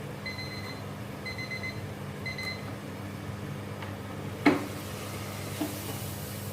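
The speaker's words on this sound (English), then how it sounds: "after 4 minutes you can hear now the counter has ring and the potatoes are ready" A Silvercrest Cool Zone SKF 2800 B3 deep fat fryer's timer rings when the potatoes are done: short repeated high beeps in three bursts over a low steady hum, with a brief clatter later.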